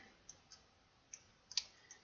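Soft, sparse mouse clicks at a computer during 3D modeling in Blender, about six quiet, close taps spaced irregularly over a near-silent background.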